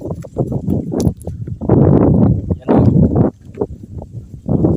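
A heavy water buffalo plods along with slow, muddy footfalls and splashing, close by, while someone speaks briefly in Filipino.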